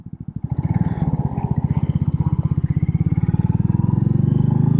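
Royal Enfield Meteor motorcycle engine chugging at low revs while riding, a loud, even thumping pulse that gradually builds in volume.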